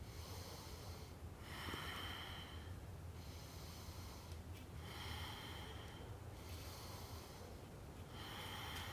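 Slow, steady breathing held through a forearm plank in a yoga core workout, with several drawn-out breath cycles in a row, each rising and falling, close and fairly quiet over a low background hum.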